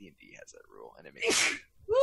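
A single sharp, loud sneeze bursts out right after a person finishes talking, followed by a brief exclaimed vocal sound.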